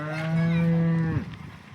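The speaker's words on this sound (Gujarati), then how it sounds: "એક આરિયા આપણે ત્યાં લાલ ગાય છે" A red cow on a dairy farm lets out a single close moo lasting about a second, which trails off into quiet.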